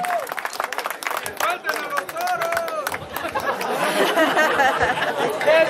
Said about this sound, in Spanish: Demuéstrenlo, por favor, compañeros, un aplauso para esta gente tan bonita.